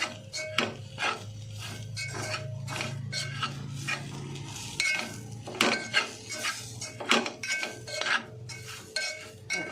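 A utensil scrapes and clanks against a pan while soya chunk (meal maker) fry is stirred, giving irregular metallic knocks and clinks, close up, over a faint low hum.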